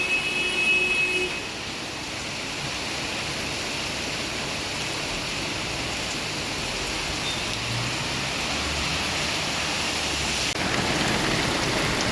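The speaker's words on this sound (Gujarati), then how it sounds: "વરસતા વરસાદમાં" Heavy rain pours down on a Rajkot street where runoff is flowing, making a dense, continuous hiss that stays loud and even throughout.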